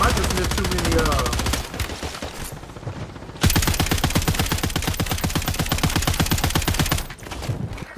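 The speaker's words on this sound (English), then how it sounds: "He's just shooting in the dark" Rapid automatic gunfire from a multiplayer shooter game fills most of the stretch in two long, loud bursts, with a short break between them and excited voices talking over the shots.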